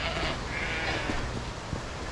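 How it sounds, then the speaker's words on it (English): Sheep-like bleating on a hiking trail near Larapinta Falls in Lamington National Park, faint and distant under a wash of steady outdoor background noise, with no talk. "Yeah, it definitely sounded like a sheep."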